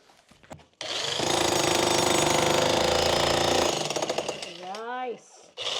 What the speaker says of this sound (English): I'm moving on to the concrete breaker.